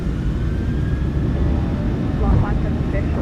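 Boeing 737-800 engines run at takeoff power in the PMDG flight simulator, a steady, loud, low roar with a continuous rumble throughout.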